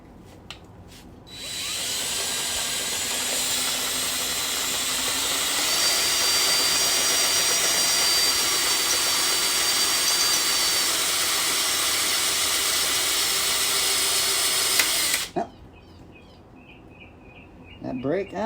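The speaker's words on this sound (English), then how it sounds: "We'll do the little fancy dancy spot weld cutter again. Get a little metal shavings everywhere, and cut that back here" A spot weld cutter grinds steadily into car body sheet metal on a Bel Air, a loud sustained high-pitched drilling whine lasting about fourteen seconds, rising slightly in pitch midway, then stopping abruptly into quieter shop noise.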